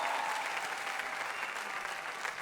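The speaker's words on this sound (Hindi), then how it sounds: "चलिए जोरदार तालियां हो जाए राहुल सिंह के लिए" Studio audience at an India's Got Talent show breaking into loud, sustained applause, dense and steady throughout with no speech over it.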